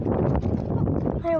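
Strong wind buffets the microphone on a very windy, dusty day with blowing sand, a continuous low roar that stays steady throughout, with a brief whistling tone near the end.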